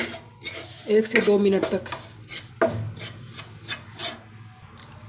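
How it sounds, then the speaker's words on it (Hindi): Wheat flour roasts in ghee in a pan for halwa as a spoon scrapes and rubs repeatedly against the metal, a close, uneven rasping under a brief line of speech. "आटे को हम अच्छी तरह से भून लेंगे"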